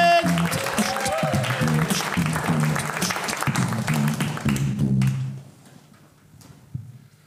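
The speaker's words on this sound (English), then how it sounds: "Keep the applause going." Audience applause at a comedy club show fills the room steadily for about five seconds, loud and continuous, then drops away to quieter room noise with a single brief clap near the end.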